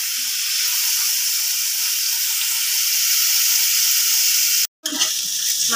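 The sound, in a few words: boiled jackfruit frying in oil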